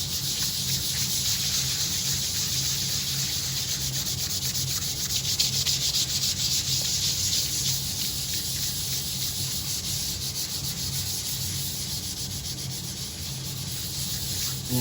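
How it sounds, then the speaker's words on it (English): Light hand sanding of guitar wood with 400-grit sandpaper makes a close, steady, continuous rubbing scratch with no pauses. "I'm just gonna go very, very lightly with my 400 grit, smooth that out"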